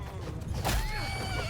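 Horses whinny during a large battle in Mount & Blade II Bannerlord, a loud neigh rising over a dense backdrop of clattering combat noise, with hooves clopping underneath.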